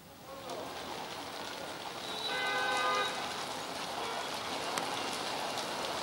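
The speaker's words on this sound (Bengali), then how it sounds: "চট্টগ্রামে তো মুষলধারে বৃষ্টি হচ্ছে" Heavy downpour in Chittagong, a steady broadband wash of rain falling continuously throughout, with a brief tonal horn-like sound rising partway through.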